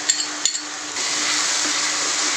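Chicken kosha masala is stirred in hot oil with green chilli paste, a few metallic scrapes of a spoon against the pan giving way to a steady, close sizzle.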